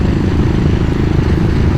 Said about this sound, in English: She's a little 500 single, electric start, nice and easy to start,